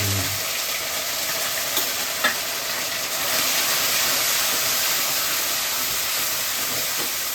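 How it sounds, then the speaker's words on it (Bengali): Katla fish cooking in a pan with fennel and dried chilli for a Bengali lunch, a steady close sizzle and frying hiss throughout with occasional small clicks of stirring. "এখানে এখন রান্না হচ্ছে দুপুরবেলার জন্য কাতলা মাছ মৌরি করুন"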